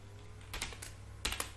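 Someone types a formula into an Excel spreadsheet on a computer keyboard, producing a few quiet, scattered keystroke clicks in two short bursts over a low background hum.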